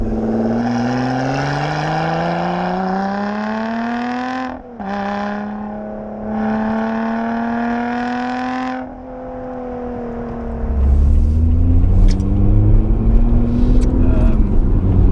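A Lotus Evora 400 sports car engine revs loudly up close, rising and holding in long droning pulls with a brief dip, then a deeper rumbling stretch near the end.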